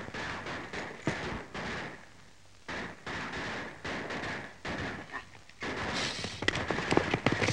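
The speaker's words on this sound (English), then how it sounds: "I'll go see what all the shooting's for." Sharp gunshots crack repeatedly in a 1936 Western film, some near and loud, others fainter, fired in irregular bursts over a noisy outdoor soundtrack.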